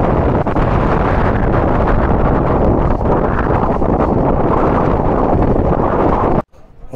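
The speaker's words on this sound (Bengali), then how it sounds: "উল্টো দিকে তীব্র হাওয়া, তার সাথে বিকট ঢেউয়ের গর্জন।" Strong wind roaring against the microphone beside the waves of Chilika Lake near Puri, a loud, continuous rushing buffet that cuts off abruptly at the end.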